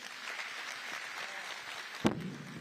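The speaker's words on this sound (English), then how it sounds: "Another round of applause for the young man." A round of applause from an audience at a bus model launch event, moderate and steady, ending in a sharp louder knock near the end.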